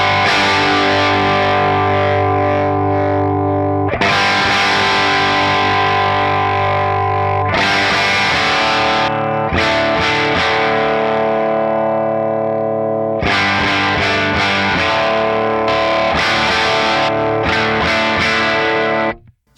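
Heavily distorted electric guitar played through a Line 6 Pod Express, with dense sustained chords and effects-laden washes, loud and close with several pauses between phrases, ending abruptly.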